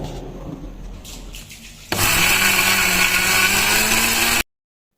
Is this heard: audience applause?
no